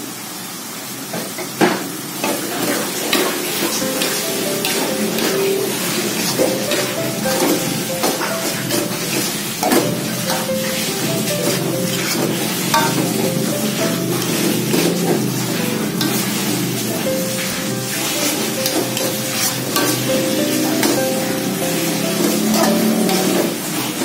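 Green onion sizzles and fries in a hot pan with oil, a loud continuous crackling hiss punctuated by spatula stirring and scraping against the pan throughout.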